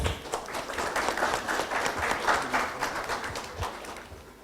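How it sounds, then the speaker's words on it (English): Sustained applause from an education summit audience, steady dense clapping throughout with no pauses, fairly loud and close. "Big round of applause."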